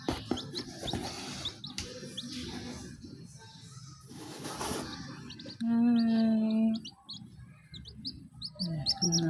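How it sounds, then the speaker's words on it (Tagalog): A hen with chicks: repeated high peeping chirps and clucking, with a loud drawn-out hen call midway, amid rustling and faint background voices. "Tignan natin tong manok."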